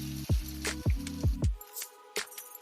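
Hot tempering of mustard seeds, urad dal and curry leaves in oil poured into a garlic red-chilli chutney, a few sharp splattering bursts and squishy sizzles in quick succession, close and loud, then a brief faint crackle.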